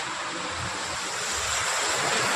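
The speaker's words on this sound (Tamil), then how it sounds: "சரியான மழை." Heavy rain pouring in Saudi Arabia, a dense, steady hiss of downpour with water splashing, close and continuous, swelling slightly toward the end, with no voices.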